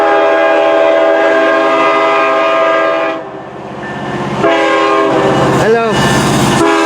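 A CN intermodal double-stack freight train passing westbound in Kimball Township, loud and close, with a steady rumble and wheel noise and a sounding horn blast near the end, while people talk briefly.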